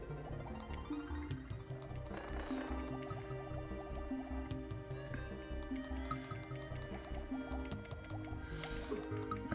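Underwater swimming in the Donkey Kong Country video game, with bubbly, watery game sounds and a looping musical score playing steadily at a moderate level throughout.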